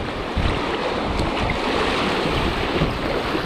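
Choppy whitecap waves on a river wash and slap steadily around a kayak, a loud broadband rush of water with wind buffeting the microphone throughout.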